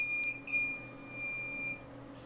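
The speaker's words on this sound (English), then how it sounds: "0 equal to object detected, buzzer rings" A touchless calling bell with an IR sensor sounds its electronic buzzer in a high, thin steady tone with a couple of short beeps, close and alone.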